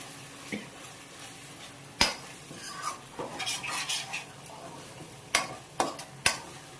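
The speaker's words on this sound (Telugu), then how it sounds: "మధ్య మధ్యలో కలుపుకుంటూ ఉండాలి." A cauliflower and tomato curry is stirred in a pan over a soft sizzle, with scraping sweeps and several sharp metallic clacks of the spoon against the pan.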